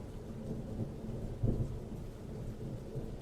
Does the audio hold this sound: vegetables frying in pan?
no